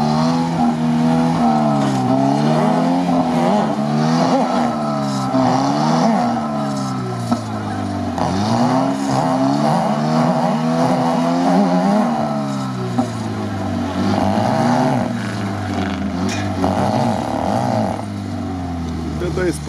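Isuzu off-road vehicle with large wheels driving through rough terrain, its engine loud and close, revving up and down continuously with rising and falling pitch, people talking over it throughout.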